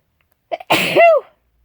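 A single loud, close sneeze, preceded by a couple of quick sharp inhalations, then silence.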